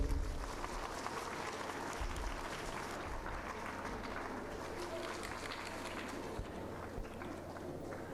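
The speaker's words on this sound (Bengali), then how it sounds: "হাততালি।" Sustained applause from an audience welcoming a school headmaster at a Vidyarthi Vrata ceremony: a dense, steady wash of clapping that fills the whole stretch at moderate level, with faint voices mixed in.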